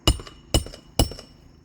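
Three sharp hammer strikes during a hands-on repair job, evenly spaced about half a second apart, each a hard metallic knock with a short ringing decay, close and alone without talk.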